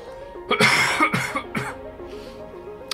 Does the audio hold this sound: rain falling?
no